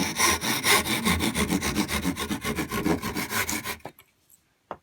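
A hand saw cuts wood for a dovetail joint in fast, even back-and-forth rasping strokes, close and clear, then stops, leaving a couple of faint knocks.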